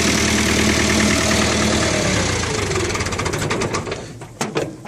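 A David Brown 995 tractor engine running steadily just after a cold start, a loud, continuous diesel clatter with a rough, uneven patch near the end.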